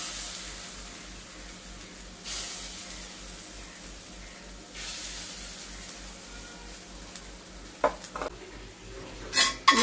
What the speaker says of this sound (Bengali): এই ছোট ছোট করে বড়াগুলো আমি ভেজে নেব।